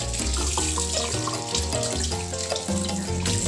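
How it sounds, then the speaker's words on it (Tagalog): Raw beef is washed under a running kitchen tap, with steady loud water splashing and gurgling in a sink, close and continuous with no voices. "Hugasan natin ang ating baka."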